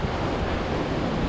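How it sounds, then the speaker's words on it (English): Gale-force wind roars across the exposed summit of Fountains Fell in the Yorkshire Dales, a loud, continuous broadband rush buffeting the microphone with no letup. "It is absolutely blowing a gale."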